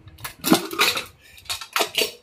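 A pressure cooker of boiled matar dal being opened: close metallic clanks, scrapes and rattles of the lid and vessel in several quick bursts, with no talking.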